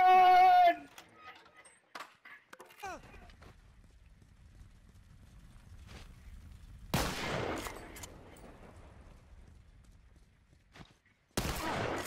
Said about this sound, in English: the whole team just gunned that boy down